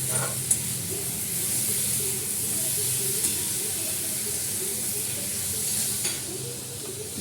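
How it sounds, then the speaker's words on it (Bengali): Potatoes frying with onions in a pan: a loud, steady sizzle and hiss that runs continuously, with a few brief clinks of the utensil. "এবার আলুগুলো দিয়ে দিচ্ছি। পেঁয়াজের সঙ্গে ভালো করে কষানো হবে।"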